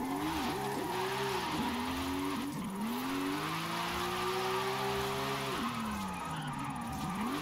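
Pickup van in the video game Forza Horizon 5 accelerating, its engine note climbing and shifting through gears in a steady, loud drone with tyre noise and no talk.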